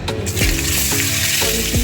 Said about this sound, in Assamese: এতিয়া পেন এটাত মই তেল অকণমান দি লৈছোঁ। তেলখিনি গৰম হোৱাৰ লগতে হালধি অকণমান আৰু কণীখিনি